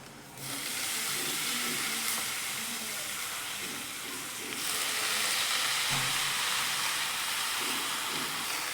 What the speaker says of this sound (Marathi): मग आता याच्यामध्ये आपण ही हादग्याची फुलं टाकून घेऊयात